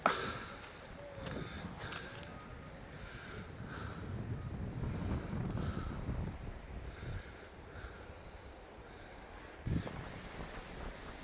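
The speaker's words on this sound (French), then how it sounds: "Super vent fort." Strong wind roars steadily across the microphone in rumbling gusts on a hillside hiking trail, with a sharper buffet near the end and no voices.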